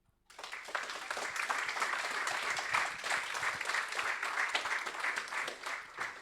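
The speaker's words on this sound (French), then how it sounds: "Je vous demande d'applaudir Wafa." At the Pum'Awards ceremony in Paris, an audience breaks into applause for the Rennes School of Business foundation's manager, rising quickly from silence into sustained, dense clapping that holds steady for several seconds.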